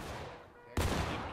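A single loud gunshot booms in a War of Rights battle, following a quieter stretch of distant battlefield noise, then decays into a rumbling tail.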